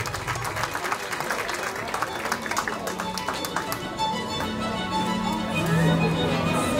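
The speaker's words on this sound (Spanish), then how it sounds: "Aplausos para el papá de las quinceañeras." Guests at a quinceañera celebration clap for the father of the quinceañeras, a steady ripple of applause from a crowd in a hall, with music and voices mixed in underneath.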